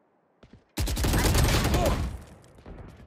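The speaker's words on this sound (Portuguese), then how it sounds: "Nossa, eu comecei a atirar primeiro." Sustained burst of automatic gunfire in a shooting video game, loud and dense for over a second after a brief quiet start, tailing off into softer shots.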